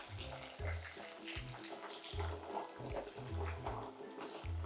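Eggplant fries in oil with a soft sizzle while a person talks over it, intermittent low voice sounds alternating with the bubbling.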